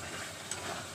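Potatoes stirred in a hot frying pan give a steady, close sizzle with soft scraping through one brief moment, no talk.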